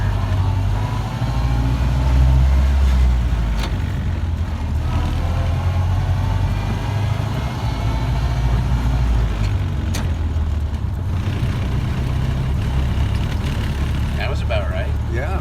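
A Ford Model A engine runs steadily while the car is driven, producing a low, continuous rumble with occasional clunks and knocks, close and loud throughout.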